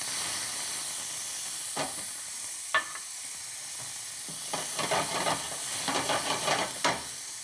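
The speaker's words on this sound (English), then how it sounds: "In the same pan where we cook the scallopini, we go first with some chopped onions." Chopped onions frying in the same pan used for scallopini, a steady hiss of oil with short scraping stirs and utensil clicks breaking through near the end, no voices.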